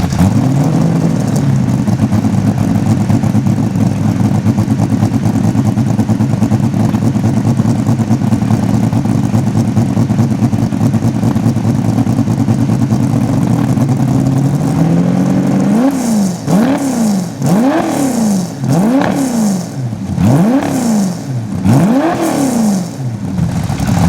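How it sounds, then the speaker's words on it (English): A Ford GT40 V8 with a bundle-of-snakes exhaust holds a loud, steady high-pitched drone, then revs repeatedly in sharp rising and falling blips during the last several seconds, close by. "the GT40 with the famous bundle of snakes, as they are called, exhaust system, has the most incredible sound"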